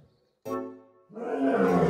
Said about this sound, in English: He then lunged across the room and roared at her.